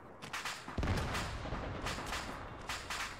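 Gunfire and heavy impacts in an Arma 3 airborne counter-insurgency operation, a strong thump near the start followed by scattered shots and rumbling under continuous battlefield noise.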